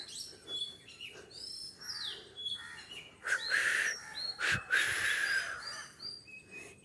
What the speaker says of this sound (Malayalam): കിളി പാട്ട് പാടുന്നേ